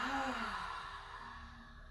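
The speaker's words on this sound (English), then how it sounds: "open the mouth and exhale it out" A single deep, audible exhale through the open mouth during a beginner's vinyasa yoga flow, a soft breathy sigh that fades over about two seconds, close and quiet.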